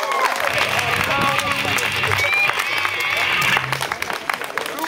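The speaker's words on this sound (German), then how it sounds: "So, noch einmal Beifall für die Zugabe." An audience at a village sports festival applauds an encore, steady clapping and crowd noise throughout, mixed with voices and some cheering.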